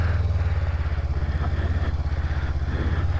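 A Honda CB500X with its 500cc parallel-twin engine idles close by, a steady, loud, even low throb with a rapid regular pulse throughout.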